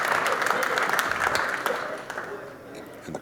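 A crowd applauds a shot at a 9-ball pool match at the 2024 Derby City Classic, loud sustained clapping that slowly tapers off while a commentator talks.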